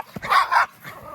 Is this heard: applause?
no